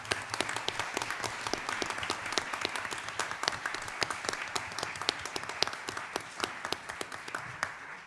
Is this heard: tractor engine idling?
no